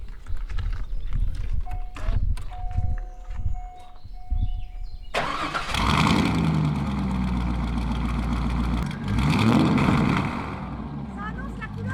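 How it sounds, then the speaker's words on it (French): A Chevrolet Corvette C5 V8 engine starts cold: a starter crank bursts into a loud, deep roar, then settles into a rumbling idle with a second rev swell, heard close up after people talking. "Démarrer le moteur."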